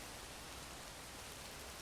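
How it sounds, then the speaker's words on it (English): Steady rain in The Legend of Zelda: Tears of the Kingdom, a soft, even hiss of falling water without breaks, faint and continuous throughout. "I'm a little worried about the rain"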